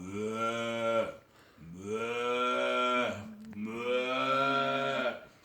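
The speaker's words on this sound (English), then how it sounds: "there is also the bellow of the buffalo" Three long, deep bellows from a buffalo, moaning and cow-like, each lasting over a second with short pauses between, close and clear.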